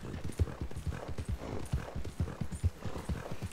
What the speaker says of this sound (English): God, Apollo really is a pretty good horse.